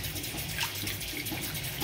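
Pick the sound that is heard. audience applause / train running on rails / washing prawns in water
washing prawns in water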